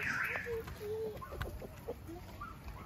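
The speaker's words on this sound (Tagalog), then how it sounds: "Hi, chickens." Chickens cluck softly nearby in short, scattered calls over a faint outdoor background, with a few higher squawks mixed in.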